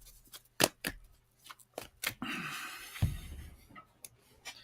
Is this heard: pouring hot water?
no